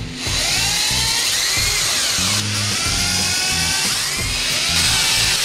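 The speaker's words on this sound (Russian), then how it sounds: "сверлим отверстие." A loud power drill whines steadily as it bores into a drywall wall, its pitch rising and dipping with pressure, close by and continuous.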